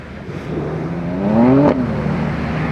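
BMW G80 M3 engine revving under throttle, rising steadily in pitch over about a second before cutting off sharply, then settling back to a steady drone, loud and close.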